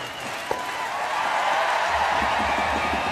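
Crowd applause at a curling final between Kevin Koe and Thomas Ulsrud swells into a broad, steady wash of clapping across a large arena, with a faint voice underneath early on.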